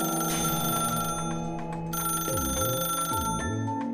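A telephone rings steadily in an animated ghost-story scene, its bright bell tone continuous across the clip and joined near the end by swooping, wavering eerie tones; no one speaks.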